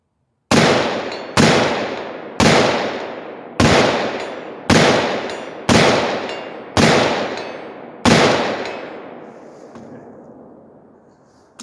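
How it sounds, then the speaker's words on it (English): Eight sharp, loud 5.56 rifle shots fired in quick succession through a Deer Creek Stealth Blast device at an outdoor range, each booming and decaying into the next, with a longer ringing tail after the last shot. "I want to shoot as fast as I can, try to stay on target."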